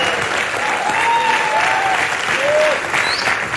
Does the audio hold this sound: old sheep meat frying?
no